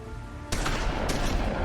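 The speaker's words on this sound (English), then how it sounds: "Measly shotguns." Shotgun blasts in The Wolf Among Us video game, a sudden loud burst of gunfire halfway through followed by a second shot and dense, noisy game sound.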